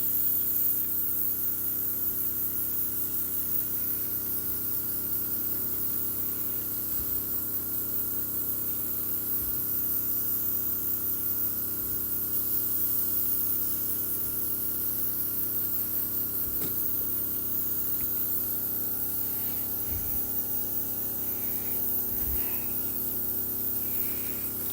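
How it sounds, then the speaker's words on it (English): An airbrush sprays paint onto Warhammer miniatures, a steady soft hissing stream that runs nearly unbroken for the whole stretch, with a few faint taps in the background. "I switched to the traditional, what do you call them, a nub airbrush?"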